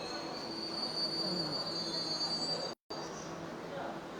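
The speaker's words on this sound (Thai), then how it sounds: "โอ้ตอนนี้ รถไฟฟ้าใต้ดินมาแล้ว" A Beijing subway train on Line 4 pulls into an underground station, a steady rumbling roar with a high sustained wheel squeal running almost throughout, briefly cut off by a short gap near the end.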